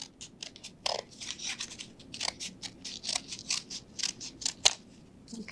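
Scissors snip repeatedly through a paper or cardstock canoe cutout for a shoe box diorama craft, a close run of crisp, crunchy cuts in quick rhythm.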